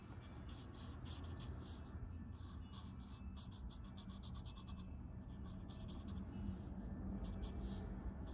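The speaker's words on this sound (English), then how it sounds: "Now this sounds like I'm scrubbing, but I'm barely touching this paper." A pen scratches ink onto paper while drawing a Zentangle pattern, making a faint, steady, close-up scratchy rasp with a soft continuous hiss throughout.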